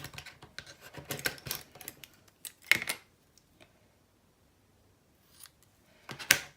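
Scissors trim paper for a book cover, a series of close crisp snips and rustles in short bursts separated by quiet pauses.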